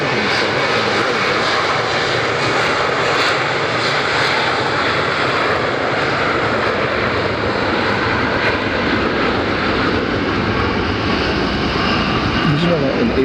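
Spirit airliner jet engines power up for takeoff at Fort Lauderdale airport, a loud, sustained, broadband roar holding steady and building slightly, with a voice talking over it.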